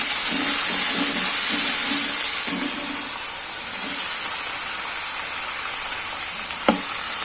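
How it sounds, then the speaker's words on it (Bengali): Loud, close hiss of vegetables frying in hot oil, strongest at first and easing slightly, with a couple of faint knocks. "এটা আমি তেলের মধ্যে ভেজে করবো সব সবজি দিয়ে দেবো"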